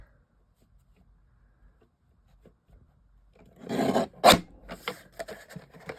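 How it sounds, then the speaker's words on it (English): A small desktop paper trimmer slices along the edge of a card, a brief rasping cut near the end following near silence, close and fairly loud. "I'm going to trim off this edge here, just to make it easier to work with"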